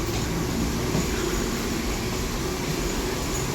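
Steady rumbling roar of a moving train in Thailand heard from inside a carriage, constant low-frequency drone with rattling, no voices.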